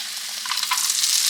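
Leftover Mexican rice frying in hot oil in a pan gives a steady, close crackling sizzle that grows slightly louder and busier over the short stretch, with no voices.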